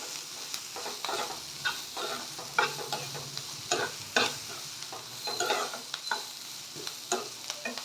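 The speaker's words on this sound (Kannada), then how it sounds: "ಇದು ತುಂಬ ಬೆಂದೋಗ್ಬಿಟ್ರು ಚೆನ್ನಾಗಿರಲ್ಲ ಲೈಟಾಗಿ ಫ್ರೈ ಮಾಡ್ಕೊಳ್ಳಿ" Vermicelli for shavige upma fries lightly in a pan, a close sizzle broken by regular scraping stirs of a spoon against the metal, with no voices.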